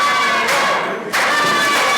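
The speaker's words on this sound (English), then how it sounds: "Crowd solidly behind their hero, Shiloh." A wrestling crowd at a CWF West Texas event roars for the wrestler Shiloh, loud sustained cheering and shouting with a brief dip before surging again.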